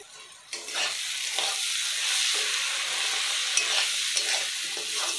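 Garlic paste hits hot oil with browned onions for a mutton curry, flaring into a loud, dense, continuous sizzle close by, with soft stirring scrapes throughout and no speech.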